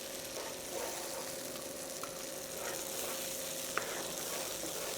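Ground mint and green chilli paste sizzling in a pan of chicken for Chettinad mint chicken, a steady close hiss with a couple of soft utensil taps.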